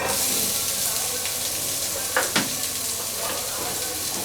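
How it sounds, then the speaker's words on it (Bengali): Half a cup of onions frying in a little oil in a pan, a steady bright sizzle filling the whole stretch with a couple of brief scrapes of stirring partway through, no talking. "আমি একটা প্যানে অল্প একটু তেল দিয়ে তার মধ্যে কতগুলো পেঁয়াজ দিব আধা কাপ"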